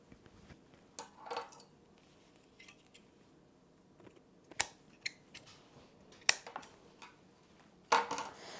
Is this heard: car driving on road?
no